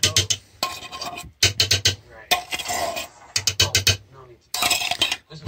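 Metal spoon clinking and scraping against a pot while cream of chicken is mixed into homemade chicken and vegetable soup, in close repeated bursts of stirring with brief pauses between.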